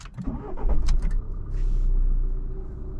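A Fiat Egea Cross 1.6 130 HP with DCT gearbox cranks and catches, then settles into a steady low idle rumble, close and fairly loud.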